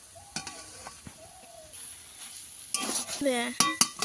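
Cooked taro leaves (kochu shak) are stirred in a pan, with sizzling and scraping spoon-against-metal strokes that grow louder and busier toward the end; a few faint chirps sound in the background.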